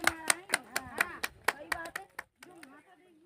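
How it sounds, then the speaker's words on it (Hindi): A small group claps hands in a quick, even rhythm at the first meeting of the Mandawara clan in Mundawar, with talk mixed in before the clapping trails off into scattered claps and a voice. "बजाओ ताली"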